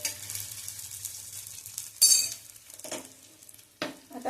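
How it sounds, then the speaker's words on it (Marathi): Potato patties (tikki) for a fasting-day ragda pattice roast in oil on a griddle, giving a soft steady sizzle with a few sharper scraping or turning bursts near the end. "दोन्हीकडनं छान असं गुलाबी रंगावर असं हे पॅटीस आपण टिक्कीही भाजून घेणार आहे."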